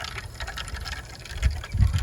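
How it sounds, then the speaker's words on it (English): Water rushes through plumbing as an indoor pressure tank pump kicks on after a backflow preventer's seals and o-rings are replaced, a close, low gushing flow with soft surges near the end. "the inside pressure tank just turned on to create additional pressure to push the water out"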